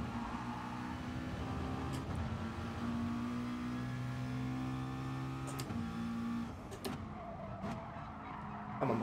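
A McLaren race car engine in GT Sport holds a steady, loud drone with rising and falling pitch across several gear changes, with faint tire noise and a few sharp clicks near the end.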